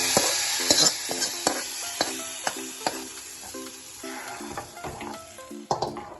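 Hot tempering tipped into an ash gourd buttermilk curry sizzles, followed by repeated metallic scrapes and clinks of a spoon stirring in the pot, close and fairly loud.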